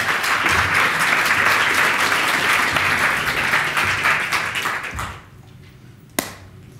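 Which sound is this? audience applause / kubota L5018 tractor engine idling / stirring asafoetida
audience applause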